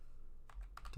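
A brief burst of computer keyboard typing, three or four quick soft key clicks close by in an otherwise quiet setting.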